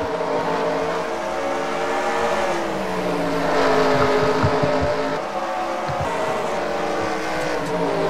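Race cars lapping Bristol in NASCAR Racing 2003, a steady dense drone of many engines with shifting whining pitches, loud and continuous throughout with a brief swell in the middle.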